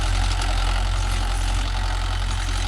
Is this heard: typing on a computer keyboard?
no